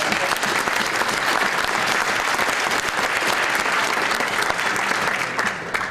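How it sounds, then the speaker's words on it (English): An audience at a mayor's State of the City address breaks into loud, sustained applause for seniors, a dense wash of clapping that fills the room without pause before easing slightly at the end. "Seniors, give them a round of applause."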